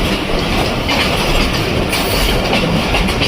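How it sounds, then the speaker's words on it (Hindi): Loud, continuous rumble and clatter of the Lasani Express train from Sialkot to Lahore in Pakistan as it approaches Masroor railway station, with rhythmic wheel clicks and some squealing. "मसरूर रेलवे स्टेशन पर हम अप्रोच बना रहे हैं।"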